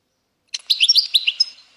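A short burst of bright, twittering goldfinch song, rapid chirps and trills close by, with no other sounds.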